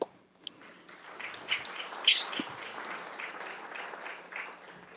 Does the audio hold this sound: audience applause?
yes